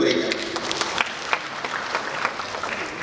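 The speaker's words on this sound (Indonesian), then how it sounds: "makanya tepuk tangan untuk mereka" An audience at a public-service event claps for a children's dance performance, a moderately quiet, scattered patter of applause lasting a few seconds with a voice faintly underneath.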